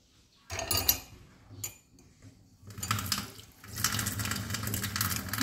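A bathroom tap runs in bursts as water splashes over hands and face, starting after a brief silence and growing into a steady close rush of running water with intermittent splashing.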